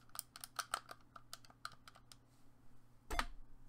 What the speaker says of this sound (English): press enter only worked on the keyboard